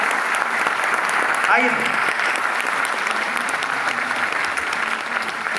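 Loud, sustained audience applause fills a hall as a zonal manager is welcomed at a training program event, with a brief voice calling out over the dense clapping.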